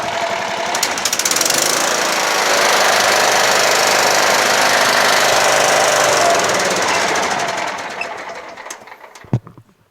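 A Kohler Command 16HP engine on a Scotts lawn tractor runs at a steady idle with a heavy, rattling vibration and loose-bolt knocking, loud and continuous for about eight seconds before dying away. No one speaks.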